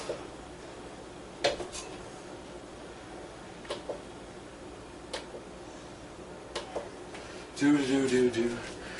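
A spoon scrapes and taps coconut oil onto a kitchen scale, a handful of faint isolated clicks ending in a short louder clatter of utensil on container, with speech nearby.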